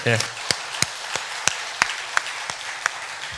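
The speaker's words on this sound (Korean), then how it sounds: "박수 한번 할까요?" A Korean church congregation claps in slow, evenly spaced beats, sharp distinct strokes that follow a brief voice at the start and continue in a steady rhythm.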